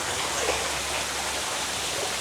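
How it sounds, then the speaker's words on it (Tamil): An artificial waterfall at a garden café pours in a steady, broadband rush of falling water, close and continuous with no voices. "எவ்வளோ அருமையாக இருக்குது பாருங்கள் அருவி."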